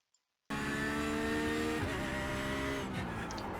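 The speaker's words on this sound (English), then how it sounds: "go to the accelerator, a little bit of wheel spin, but I'm away" Porsche 911 GT3 R race car in iRacing pulling away with some wheel spin: the engine cuts in abruptly after a brief silence, then revs loud and close with rising gear tones, alone with no talk.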